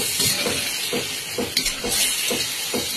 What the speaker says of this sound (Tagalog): At haluin naman natin.